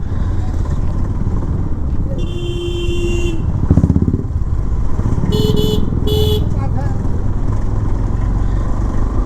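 Motorcycles and cars crawl through a daytime road traffic jam in Ranaghat with a loud, constant engine rumble close by, and two horn blasts sound, one long and then a pair of shorter honks.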